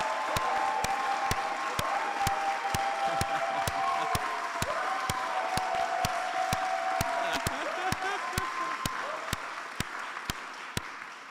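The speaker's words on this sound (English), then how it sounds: "please join a big round of applause for Johan Ducharme" A round of applause at a fellowship closing ceremony, steady crowd clapping at moderate volume with a faint murmur underneath, tapering slightly toward the end.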